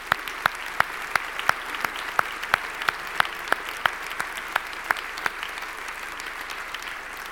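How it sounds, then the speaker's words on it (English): A hand-surgery congress audience at an opening ceremony applauds its organizers, giving a fairly sparse, rhythmic patter of clapping with sharp distinct claps over a faint crowd wash, at moderate distance. "I would like to ask you to give a great applause to the organizers"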